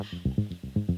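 A deep percussion loop pitched down 12 semitones, with dull thudding hits in an uneven repeating pattern, sounding slowed and heavy, played alone.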